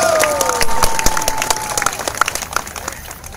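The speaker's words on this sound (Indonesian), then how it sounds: "Berikan tepuk tangan saudara-saudara." Audience applause at an Islamic religious gathering (pengajian), a large crowd clapping steadily and loudly with scattered cheers, while a faint voice carries over the din.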